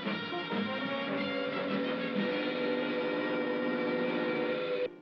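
An alarm siren sounds at a defence base in the 1974 TV series UFO, a loud, steady, unbroken wail that holds for several seconds with no talking.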